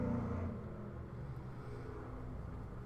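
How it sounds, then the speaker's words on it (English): A truck passing along a residential street, a faint low rumble of engine and road noise heard from a distance, steady and continuous with no voices. "It's this truck coming by now."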